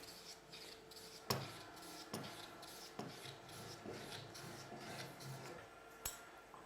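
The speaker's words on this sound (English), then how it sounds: "I'm going to try and reduce the size of the dowel with a plane" Hand plane shaving down a wooden dowel, faint scraping strokes with sharp clicks roughly every second as each pass ends, close and quiet with no talk.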